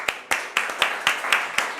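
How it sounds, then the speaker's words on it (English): Conference audience applause at a digital green technology event, heard as a steady run of separate, evenly spaced claps over a couple of seconds, fairly close and thin rather than a full crowd roar. "So maybe we could give them a clapping hand as well."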